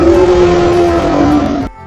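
A lion cub in a children's story lets out a loud, sustained roar lasting nearly two seconds before it cuts off abruptly, close and alone.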